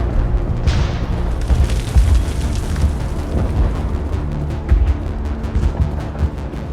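Video game battle noise with heavy booming explosions and bursts of gunfire rolling continuously, loud and close, with no talking.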